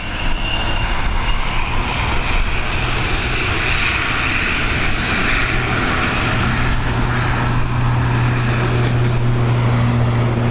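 An ATR 72-600 turboprop departs Dublin Airport's runway 28L in the evening, its propeller engines roaring loud and steady throughout, with a strong low hum and broad rushing noise.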